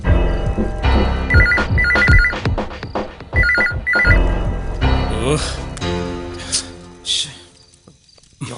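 A telephone rings unanswered in repeated double bursts of electronic trills, heard twice over a busy film soundtrack with other clattering effects, then fading away.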